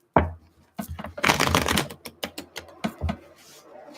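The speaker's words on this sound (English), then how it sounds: "One more shuffle." Tarot cards are shuffled up close: a brief snap, then a fast riffling burst followed by several lighter flicks and taps of the deck.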